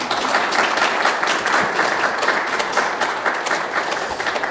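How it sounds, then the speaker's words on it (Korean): A church congregation applauds steadily during a Sunday worship service at a Presbyterian church, dense even clapping filling the room from start to finish at a loud, unbroken level. "그 모르실 청년을 위해서 박수 한번 보내주시기 바랍니다."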